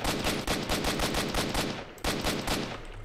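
Rapid automatic gunfire in Stalker: Shadow of Chernobyl, dense bursts of loud close shots in a fast rhythm, a brief pause near the middle before the firing resumes.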